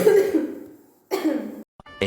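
A person coughs nearby in two loud, harsh bursts separated by a short pause, then a brief rustle at the end.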